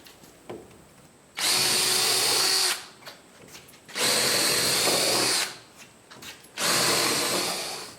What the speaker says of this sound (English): once you get done drilling the 5/16 hole in